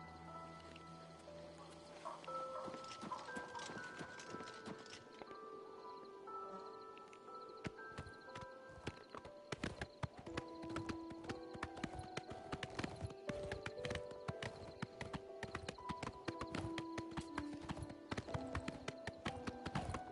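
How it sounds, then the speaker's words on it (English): A horse gallops in the video game Oblivion Remastered, its hooves pounding out a fast, steady clip-clop that stays loud and continuous throughout, with no talking over it. "I'm pretty sure I'm faster than my horse. By, like, a lot. This bitch is galloping."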